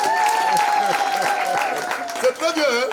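Women in a crowd at a March 8 event clap for themselves, a brief burst of applause heard under someone speaking French into a microphone.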